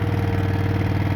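A Kanga mini loader's engine running in a garden, a steady rhythmic idle with a low pulsing throb and light mechanical rattle, close and continuous without voices.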